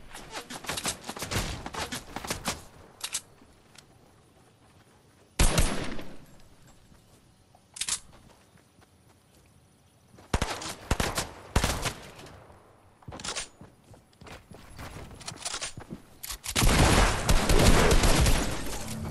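Video game gunfire, bursts and single shots in scattered clusters with quiet gaps, fairly close and loud, ending in a sustained heavy volley.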